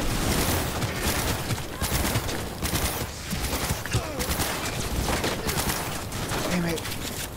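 Incendiary-round gunfire in the video game Cyberpunk 2077, dense continuous bursts of shots and impacts filling the scene, loud and close, with voices talking over the fight.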